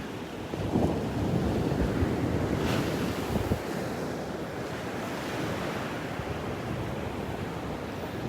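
Ocean surf rolls onto a beach at Delnor-Wiggins, a continuous broadband wash with wind buffeting the microphone, steady and fairly close throughout, with no voices.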